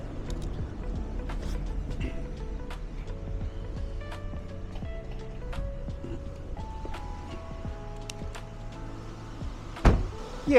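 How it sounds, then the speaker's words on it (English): Power windows whir down on a Nissan Skyline ER34 with its engine running, a faint motor hum with soft mechanical clicks and a louder thump near the end, set against low idle rumble. "I'll put the windows down."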